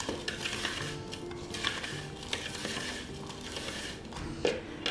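Melted butter being mixed into a fine breadcrumb cheesecake base in a bowl, giving a steady scraping and clinking of utensil against the dish with small irregular knocks, close and alone.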